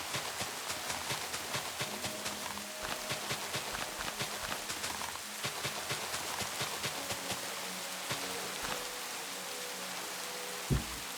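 Rain falls steadily in the Minecraft video game, a continuous patter of drops with regular clicking footsteps crossing it, at moderate loudness and without voices.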